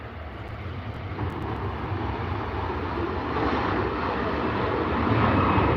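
Emirates airliner taxiing toward the terminal at Manchester Airport, a steady broadband jet engine roar that holds throughout and swells slightly louder toward the end, heard at moderate distance with no talk.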